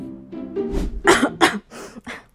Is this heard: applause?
no